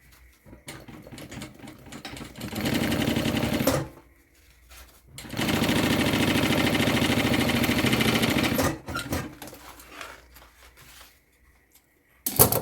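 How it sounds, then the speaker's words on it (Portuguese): A sewing machine stitches the end of a fabric bag lining on a waist pouch, running in two sustained bursts of steady mechanical whirring separated by short pauses and quiet handling. "agora eu vou costurar a ponta do meu forro"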